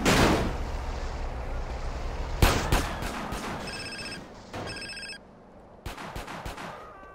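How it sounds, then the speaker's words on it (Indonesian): A phone rings in GTA San Andreas Definitive Edition, a repeating electronic ringtone in short bursts layered over loud gunfire, crashes and engine noise from the game. "si Jam mendapatkan panggilan telepon"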